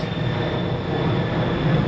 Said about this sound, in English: I got a plane in the background